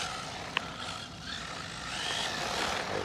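A Remo Hobby 1621 Rocket 1/16 brushed RC short course truck's electric motor runs with a faint, steady whine that rises gently toward the end, a single sharp click early on.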